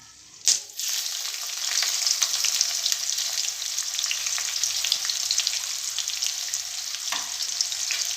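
Onions sizzle and fry in a hot pan for an Odia dahi chicken tarkari, starting with a sharp burst as they hit the oil, then a steady close crackle with faint stirring clicks.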